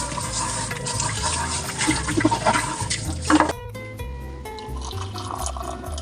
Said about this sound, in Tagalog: sabi ko maghugas muna para mamaya konti na lang yung hugasin.